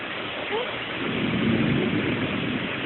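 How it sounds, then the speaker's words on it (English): Heavy rain pours down outdoors as a dense, steady hiss with a low rumbling undertone, continuous and fairly loud throughout. "it's pouring rain"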